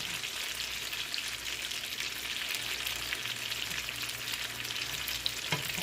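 Pork chops fry in a pan with balsamic vinegar and jam, giving a steady, close crackling sizzle with no talk over it.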